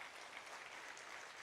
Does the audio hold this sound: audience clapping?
yes